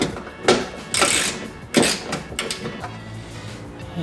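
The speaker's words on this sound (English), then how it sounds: "So use the wrench to untie the nuts." Metal wrench clicks and turns against nuts while a Tesla Model Y/3 cyber tail light is being loosened, giving a few sharp mechanical bursts followed by softer scraping and ratcheting close by.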